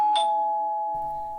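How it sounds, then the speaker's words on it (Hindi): A doorbell at a home rings once, a clear bright chime that sounds close and loud and then rings out slowly into silence. "मीमी के घर की घंटी बजी।"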